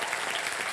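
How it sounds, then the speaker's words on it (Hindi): Audience applause for a band at a live event, a dense, even wash of clapping from a crowd, loud and steady throughout the brief moment. "जोरदार तालियां बैंड के लिए।"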